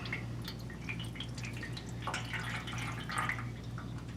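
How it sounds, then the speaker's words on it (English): Transmission fluid drains from the removed pan of a 2021 Dodge Ram Cummins 3500, a steady pattering drip and trickle with a low hum underneath, close and continuous without talk. "I usually get a big shot of oil coming at me, so be ready for that."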